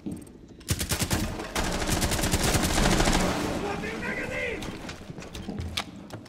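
Rapid automatic gunfire in Rainbow Six Siege, a loud sustained burst of shots followed by scattered single shots, with players talking over it.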